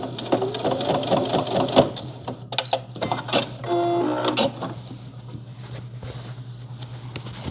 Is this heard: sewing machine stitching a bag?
yes